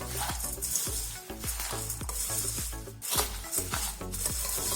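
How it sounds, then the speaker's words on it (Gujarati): A puffed rice (mamra) snack mixture being stirred in a vessel, a run of rhythmic scraping strokes with a dry rustle and light sizzle between them, close and fairly even. "અત્યારે આપણે બે વાટકી જેટલા મમરા લઈશું ફરી આપણે મિક્સ કરીશું"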